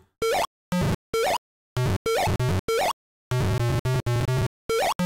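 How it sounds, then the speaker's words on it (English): Robot enemy sound effect in the Commander Keen video game, a series of loud, abrupt electronic beeping bursts with rising pitch, chopped by silent gaps in an irregular rhythm, with no voices. "Okay, that's a noise. That's not me making the noise. What is that? Oh, that's a robot."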